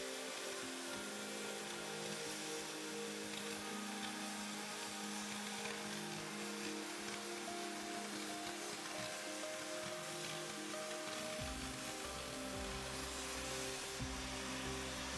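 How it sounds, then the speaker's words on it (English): A StarCut oxyfuel hand cutting torch runs with the cutting oxygen lever open as it cuts a workpiece, giving a loud, steady roaring hiss that deepens and grows rougher toward the end. "Cut your workpiece by operating the cutting oxygen lever."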